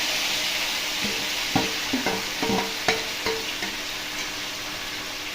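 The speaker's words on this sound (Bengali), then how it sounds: "স্লো ফ্লেমে এটাকে আমি 10 মিনিট ভালো করে কষে নেবো।" Marinated chicken fries in hot ghee and oil over a slow flame while it is stirred for biryani. A steady sizzle runs under a series of close, sharp spatula knocks and scrapes against the pan, and no one speaks.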